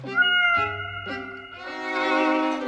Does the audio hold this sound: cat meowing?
yes